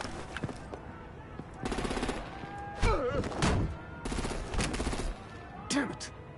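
Gunfire in Batman: The Enemy Within, several loud rattling bursts of automatic shots in succession, with voices speaking between volleys.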